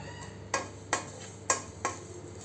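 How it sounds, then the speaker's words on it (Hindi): Spices such as fennel and cumin dry-roasting in a pan, with four distinct scraping stir strokes at a steady rhythm over a quiet background. "ये देखिए हमारा मसाला भून करके तैयार हो गया है।"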